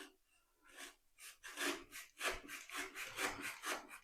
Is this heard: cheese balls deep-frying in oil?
no